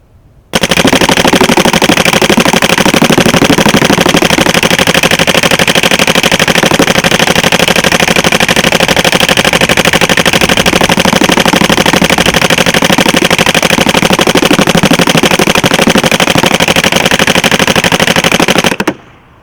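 A Dye DAM paintball marker fitted with a box rotor fires fully automatic in one loud, continuous rapid-fire burst of shots that runs nearly twenty seconds without a break.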